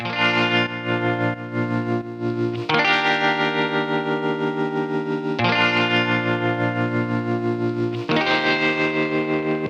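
Big, distorted electric guitar chords from a song ring out in sustained blocks, struck anew every few seconds, thick with effects and reverb.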